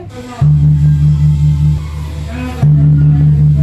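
Karo traditional gong resonating with a deep sustained hum, struck once near the start and again about two seconds later, loud and close, each stroke ringing on and overlapping the last.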